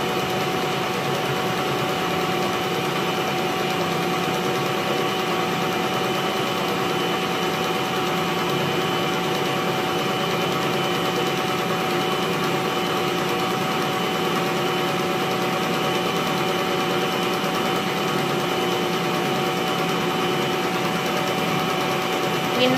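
Electric mixer whirs steadily and continuously as it beats cake batter with eggs for a pineapple and banana cake, a close, even motor drone with no pauses.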